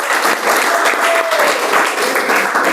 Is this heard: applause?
yes